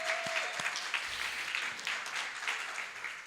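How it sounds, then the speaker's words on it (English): Audience applause for a live band at a Sunday celebration service, a steady wash of clapping that carries at an even level for the whole stretch with no voices over it. "Let's give them a big round of applause once again."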